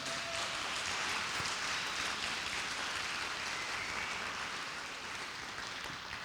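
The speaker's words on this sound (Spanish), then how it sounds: "Dale un fuerte aplauso al Señor" Church congregation applauding in a steady, dense wash of clapping that holds loud and even for several seconds without pause.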